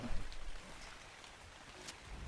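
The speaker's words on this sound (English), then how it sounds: "once it starts raining on Ragnarok, it doesn't stop" Steady rain falling in the video game Ark Survival Ascended on the Ragnarok map, a continuous soft hiss with a few brief louder bursts near the start.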